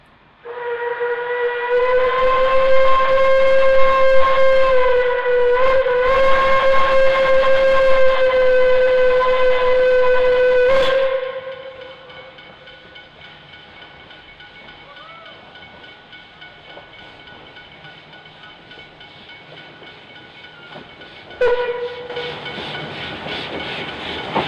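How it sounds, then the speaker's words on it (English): The Puffing Billy steam train departs Emerald at a main road crossing. Its whistle sounds a long, loud blast lasting about ten seconds, then fades into rumbling, hissing train noise, and a brief second whistle toot follows near the end. "We now see the train departing Emerald at the main road crossing bound for Belgrave."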